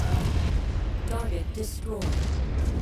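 Turrets fire in the video game MechWarrior 5 Mercenaries: a few muffled, distant thuds and bursts of gunfire over a low, rumbling background, fairly quiet overall.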